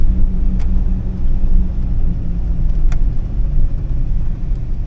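Steady low engine rumble and road noise from a 2003 GMC Envoy SUV driving on the road after welding repairs, with faint rattles and clicks over the continuous drone.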